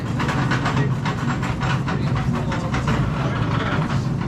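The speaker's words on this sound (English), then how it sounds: "We're on the tram, headed down into the mine." A loud, steady rumble of a mine tram rolling along rails down into Iron Mountain Mine, with rhythmic clattering and some hiss running through the whole stretch.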